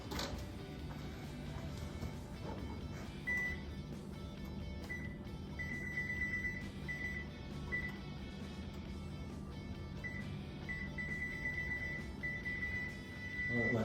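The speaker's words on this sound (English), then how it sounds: "All right, my timer's going off." A kitchen timer beeps in short, repeated high tones against a steady background hum, moderately faint, while stuffed shells bake, with no one speaking.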